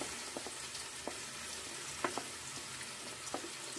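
Steady, hissing sizzle of onions frying in hot oil, with occasional small pops and stirring clicks, continuous and close.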